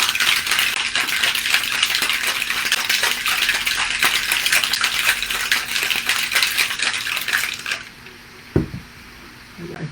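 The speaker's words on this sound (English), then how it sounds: "So usually I would shake this longer than I would other cocktails because that's all going to mix up nicely." A raspberry cocktail is shaken hard with ice in a cocktail shaker, a fast, steady rattling of ice for about eight seconds that stops abruptly, followed by a single clunk and near-quiet.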